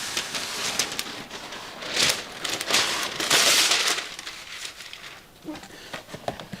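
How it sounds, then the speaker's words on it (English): Parchment paper crinkling and rustling as it is handled over an ordinary baking tray for wontons, close and in bursts of crackling, with a voice speaking briefly. "We're using parchment paper."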